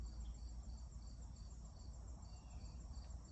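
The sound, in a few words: spring peepers (frogs) calling at night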